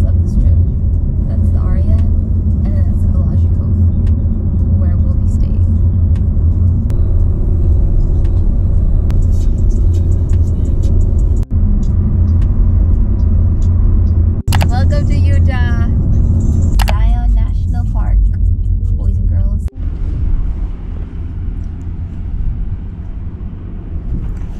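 A rented sedan driving on the road, with a steady, loud low rumble of engine and tire noise throughout and brief voices partway through.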